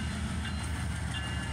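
A passenger train rumbles steadily past at close range through Cachoeira Escura station in Brazil, a continuous heavy roar of wheels and carriages with no voices.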